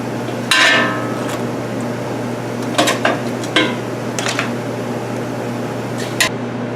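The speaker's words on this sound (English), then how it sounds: "using a pair of tongs, I'm going to take all of those bones that we roasted. We're going to put those into the stock pot." Roasted turkey bones dropped one by one into a metal stock pot with tongs, giving several sharp, close clinks and clatters over a steady low kitchen hum.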